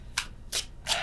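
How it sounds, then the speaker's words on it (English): Tarot cards are moved and shuffled on a table, making three short, close papery swishes in about a second. "I was just moving the cards."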